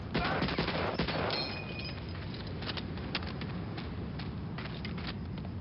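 Gunfire in Medal of Honor: Allied Assault crackles in a dense, loud rapid burst at first, then settles into scattered shots over a steady wash of battle noise.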